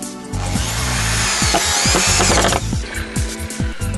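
A power drill drives screws to fasten a wooden screed board for a concrete footing form, loud and close, with repeated whirring bursts that wind up and stop as each screw seats.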